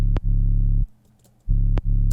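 Layered 808 bass, saturated and filtered and paired with a cleaner 808, thumps deep and sustained in two long held notes separated by a short gap, loud and close with a brief click at each attack.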